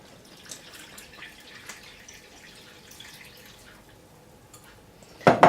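Water is poured into a bread dough mixture with olive oil, a soft, faint trickle and drip near at hand, ending in a brief louder splash.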